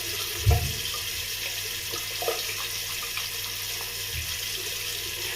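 Water running steadily from a tap while a soap bar is rinsed, a soft continuous stream with a couple of low splashes and knocks near the start.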